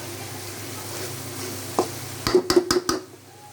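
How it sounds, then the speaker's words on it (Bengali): Broth poured over sautéed vegetables in a pan while cooking a tilapia, cauliflower and tomato curry: a low simmering hiss, then a short burst of sharp splashing, spitting sizzle near the end. "এখন আমি ঝোল দিয়ে দিব।"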